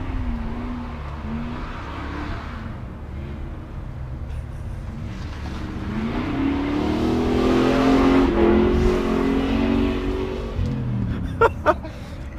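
A record-setting Camaro ZL1 engine revs hard, its roar rising and swelling to a loud peak before easing off, with faint voices in the background.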